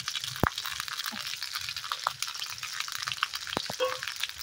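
Vegetables with turmeric, chilli and cumin powders frying in a pan, a soft steady sizzle with scattered scraping stir clicks and crunches, close and fairly quiet, no talking.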